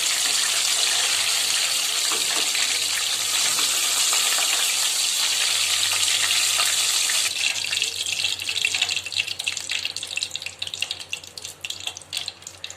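A steady, bright hiss of oil deep-frying shawarma kizhi snacks fills the whole stretch, turning crackly and uneven toward the end, with no voices.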